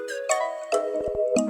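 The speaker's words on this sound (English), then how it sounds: "the last 2 things I added were this bell from Purity" Bell tones from the Purity plugin in a hip-hop beat: bright, ringing pitched hits struck in a short melodic pattern, each with a brief shimmering tail.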